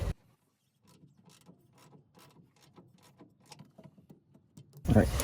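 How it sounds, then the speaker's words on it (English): A wrench breaking loose an 18 mm rear shock absorber bolt on a Ford Ranger RWD, a series of quick close ratcheting clicks in bursts, quiet overall, ending in a louder clatter. "Just gonna break it loose first"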